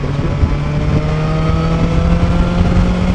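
BMW S1000XR motorcycle pulling a fifth-gear overtake on the road, a loud, steady engine drone from the rider's position with heavy wind rush throughout.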